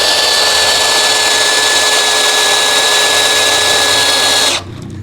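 DongCheng DCJZ2090i cordless impact drill running at speed 1 bores into wood with an auger bit, a loud steady high whine with a constant tone, held throughout before cutting off at the end.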